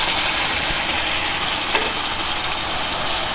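Onion paste hitting about three tablespoons of hot oil for fish curry, a steady broadband sizzle and frying hiss that fills the whole moment evenly and loudly, with no voices.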